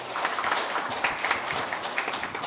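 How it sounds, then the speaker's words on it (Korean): Audience applause at a 2023 National Assembly suicide-prevention policy seminar: a steady, dense patter of many hands clapping together, fairly close and continuous for the whole stretch, with no talking over it. "여러분 박수 부탁드립니다."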